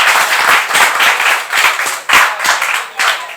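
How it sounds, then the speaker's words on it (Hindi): Students clapping in a classroom, a close burst of group applause with rhythmic, uneven hand claps pulsing steadily for a few seconds, no talk. "ताली बजाइए, ताली बजाइए।"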